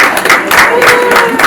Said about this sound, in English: A lot of applause for him.